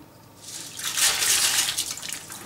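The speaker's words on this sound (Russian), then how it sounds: "Сейчас я их промою и будем разрезать бутылочку." Mung bean sprouts rinsed in water, a close splashing and trickling wash that swells after half a second and keeps churning with small splashes, no talking.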